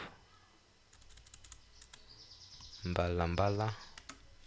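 Keyboard typing on a computer during a spreadsheet entry task, a run of quiet clicks heard faintly alongside a person speaking.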